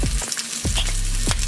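Onions seasoned with onion powder and garlic frying in a pan, a loud close sizzle with sharp spattering crackles and quick stirring scrapes over a short stretch.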